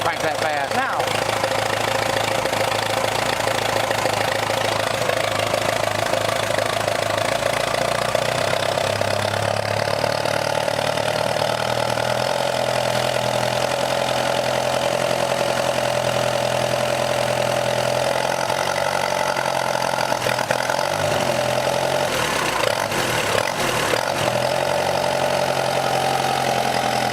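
A rare Allis Chalmers twin-engine tractor, missing a piston, runs steadily close by, its engine holding a rough, knocking idle throughout, with a shift in pitch partway through and people talking over it.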